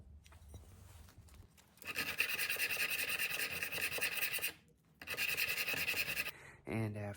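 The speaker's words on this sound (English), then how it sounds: "after quite a bit of hand sanding" Steady rasping strokes of hand sanding on a metal knife blade, loud and close, in two long bursts separated by a short pause.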